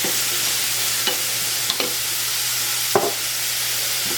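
Two cloves of garlic frying with onion in a pan, a loud constant close sizzle under a low hum, punctuated by a few sharp clinks and scrapes of stirring.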